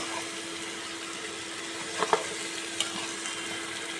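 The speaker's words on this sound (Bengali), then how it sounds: "দিয়ে খুব ভালো করে নেড়ে চেড়ে চিকেনটাকে কষিয়ে নেব।" Desi chicken curry sizzles and fries over medium heat in a pan, a steady soft hiss with a few faint clinks of a stirring spoon.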